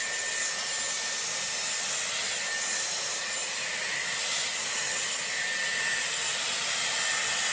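Dyson Airwrap styler blow-drying hair through a round brush, its steady airy hiss roaring close and continuous without a break, no voices over it.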